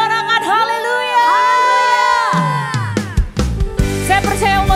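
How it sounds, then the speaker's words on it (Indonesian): A church congregation at an Indonesian worship service cheers and shouts hallelujah, a loud rising crowd roar with whoops and sustained voices, swelling then settling into broad cheering for about five seconds. "Jemaat Tuhan mana suaranya? Sorakan haleluya."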